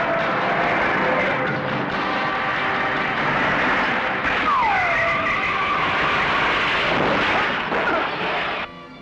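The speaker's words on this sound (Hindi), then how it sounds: "टायर पंचर हो गया।" A car skids on a punctured tyre, a loud, sustained roar of engine and road noise with a sharp squealing screech partway through.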